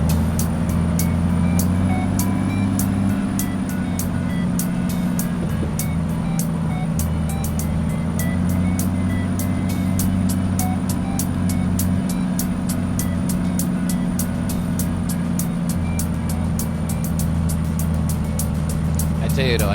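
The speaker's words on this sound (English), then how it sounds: "Am I going to be able to back this truck up in there like that in that tight space?" Freightliner Coronado truck in American Truck Simulator backing into a tight space, steady low diesel engine drone with a regular, evenly spaced reversing beep running throughout, loud and continuous.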